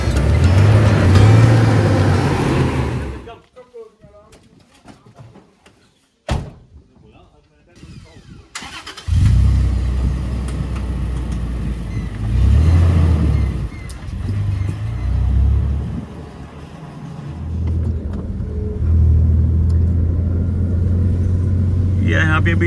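A safari overland vehicle driving through the Moremi Game Reserve in Botswana, its engine rumbling loudly, cutting out briefly, then starting again and running steadily, with people talking over it throughout.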